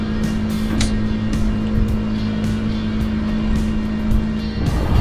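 A car drives along a road, heard as a continuous, loud engine and road drone with a steady hum and faint passing swells throughout.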